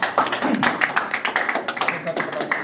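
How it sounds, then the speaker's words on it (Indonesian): A small audience at an office meetup gives a brief, uneven round of hand clapping, individual claps distinct and close, with voices mixed in among them. "Tepuk tangan"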